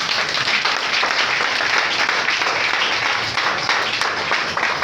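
An audience applauds loudly and steadily throughout at a church gathering, a dense wash of clapping with no pauses.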